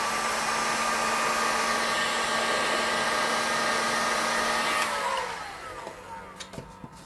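A heat gun softening a vinyl record for cutting blows with a steady whining hum, then switches off near the end and winds down, leaving a few faint clicks and handling sounds.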